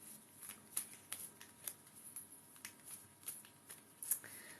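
Tarot cards being shuffled, a steady run of crisp riffling snaps and flutters at an even rhythm, close and fairly quiet with no talk.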